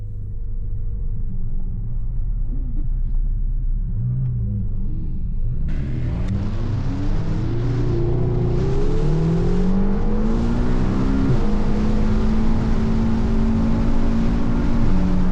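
A McLaren GT sports car runs toward 120 km/h. A low rumble gives way to a loud, close engine roar whose pitch climbs steadily as it accelerates.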